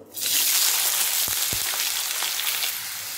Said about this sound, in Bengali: হলুদ গুঁড়ো আর লবণ দিয়ে ভালোভাবে আলুগুলো ভেজে নেব